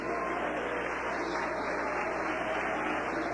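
Church congregation clapping joyfully in praise during a worship service, a dense, steady wash of many hands that fills the room without a break.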